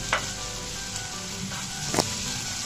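Chopped ripe tomatoes with green chilli sauté in a pan, giving a steady close sizzle with a couple of brief stirring scrapes.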